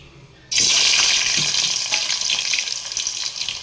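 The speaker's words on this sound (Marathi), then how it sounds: "आता मी रस्सा फोडणीला घालते" A sudden loud sizzle bursts out as curry masala hits hot oil tempered with curry leaves, garlic and tomato, then crackles and spits steadily, close up with no voices.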